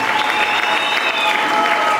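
A church congregation gives a steady burst of clapping, dense and sustained for a couple of seconds at close range.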